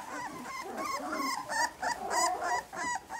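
Puppies from a litter of sixteen whimper and yip in high, thin, wavering cries, several close overlapping whines repeating in short bursts with no talk.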